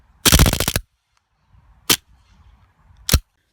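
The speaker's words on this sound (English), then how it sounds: "Here's a little more full auto shooting." A KWC Desert Eagle CO2 airsoft pistol fires one rapid full-auto burst of about half a second, then two single sharp cracks, loud and close, with quiet gaps between.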